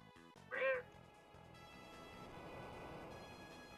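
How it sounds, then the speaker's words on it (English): A single short cat meow rings out near the start, clear and close, followed by quiet background game music with no talking. "Speaking of meowing."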